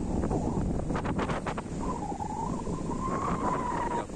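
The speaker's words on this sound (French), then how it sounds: "Je ne sais pas trop si on va m'entendre parce qu'il y a beaucoup de vent." Strong, steady wind buffeting the microphone beside Lac d'Orient, a continuous loud rumble with gusting rustle and no voices.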